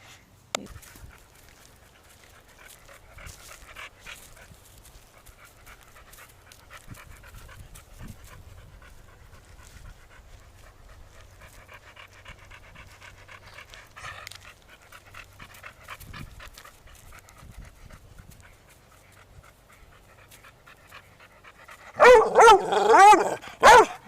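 A big dog pants steadily and close by for most of the stretch, then breaks into a short run of loud, rapid barks right at the end, with no talking over it.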